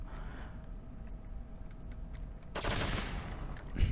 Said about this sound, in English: It's automatic. It's very fast firing